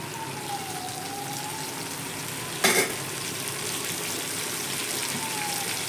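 Ingredients for a chutney sauté in a pan, giving a steady close sizzle and crackle with one brief louder stir scrape midway, and a faint tonal whine over it.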